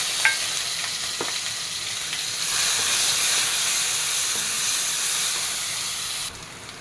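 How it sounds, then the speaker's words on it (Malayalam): Crushed shallots and mustard seeds fry in hot oil in a kadai, giving a steady close sizzle that swells louder after a couple of seconds and then drops off near the end, with no talking. "ലേശം കടുക് പൊട്ടിയതിലോട്ട് ഇതാ ചെറിയ ഉള്ളി ഒരു 10-15 ഉണ്ടാവും ചതച്ചത്"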